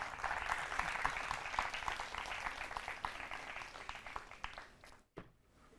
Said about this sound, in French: je vous prie de l'applaudir bien fort